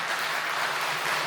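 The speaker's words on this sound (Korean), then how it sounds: "다시 한번 멋진 솔로를 들려주신 여기 트럼펫 선생님께 큰 박수 부탁드리도록 하겠습니다." Audience applause at an outdoor riverside talk concert after a trumpet solo, a brief, fairly faint, even wash of clapping.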